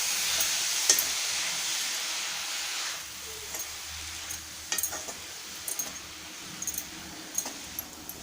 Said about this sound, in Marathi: हे बघा, या प्रकारे हलवत असं परतवायचं आहे